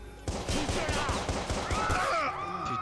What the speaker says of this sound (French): Il y a des coups de feu, vous entendez pas?